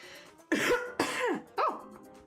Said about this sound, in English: I need to cough really badly